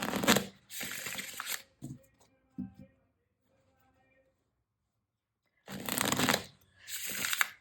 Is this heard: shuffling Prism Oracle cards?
yes